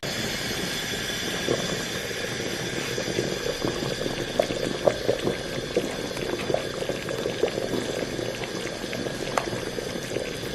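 Nihari, a beef stew, boils hard on high heat with a steady bubbling roar and scattered louder pops, continuous and close throughout with no voices.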